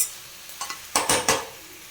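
Chicken sautés with ginger garlic paste and tomato in a pan, a soft sizzle broken by four or five quick scraping stirs near the middle, with no talking.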